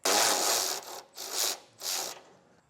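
A ratchet works loose the 10mm bolt at the top of an exhaust isolator under a 2023 Ford Explorer, giving three close bursts of rapid clicking and rasping, the first longest, then brief pauses.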